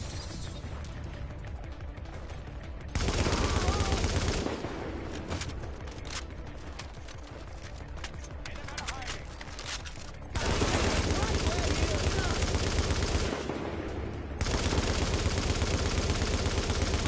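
Rapid automatic gunfire from a first-person shooter video game rattles on almost without a break. It grows louder in a few heavier bursts and carries a gritty, clipped crackle throughout.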